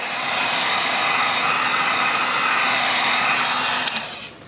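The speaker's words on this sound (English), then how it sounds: "Now you're gonna go one light pass with the heat gun, just so it gets that initial stick onto it." A heat gun blows hot air over a shoe kick guard for a light pass, a steady close whooshing hiss that holds evenly for several seconds before cutting off near the end, with no talking.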